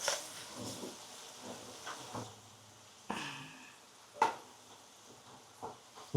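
Peanut oil bubbles and sizzles softly in a pan while a chintakaya chicken pickle is cooked, with occasional stirring scrapes and light pops over a low hiss.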